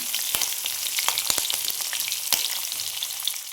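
Curry leaves, chillies and lentils crackle and sizzle steadily in hot oil for a tempering, with sharp pops scattered throughout and occasional stirring, close and fairly loud.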